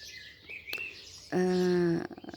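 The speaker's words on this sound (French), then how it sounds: "aujourd'hui, on a en bruit de fond la musique des oiseaux" Birds singing outdoors behind a speaker: a few chirps and tweets, then a loud, close sustained call with layered tones for about half a second, fading back into quiet twittering.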